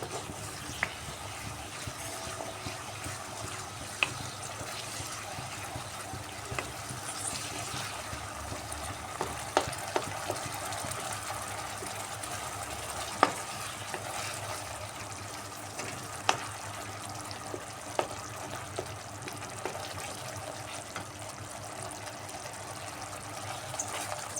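Mustard paste sautéing in a pan, a low steady sizzle dotted with scattered spoon scrapes and small clicks, quiet and continuous throughout with no talking.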